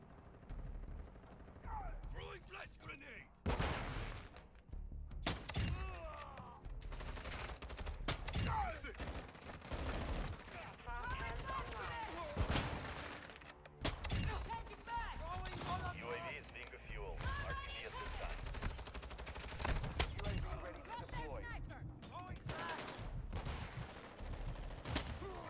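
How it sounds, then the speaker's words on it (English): Sniper rifle shots ring out from teammates in Modern Warfare 2, sharp loud cracks scattered irregularly among other game gunfire and action noise, with a voice talking over parts of it. "Teammates sniping."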